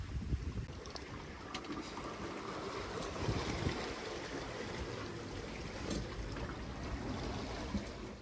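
A sailboat offshore running in a steady 13 to 16 knot beam breeze, a continuous rush of wind and water along the hull, moderately loud with wind buffeting the microphone and no voices.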